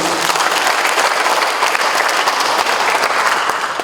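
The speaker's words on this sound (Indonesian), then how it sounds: "Tepuk tangan dulu." A crowd at an official swearing-in ceremony applauds continuously, dense and steady clapping filling the room from start to finish.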